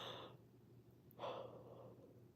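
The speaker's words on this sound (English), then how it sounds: "sorry, I got a yawn." A quiet yawn from a woman chatting in a relaxed night livestream: a soft breathy inhale, a pause, then a second airy exhale with a slight voiced tone, close to the microphone over faint room hum.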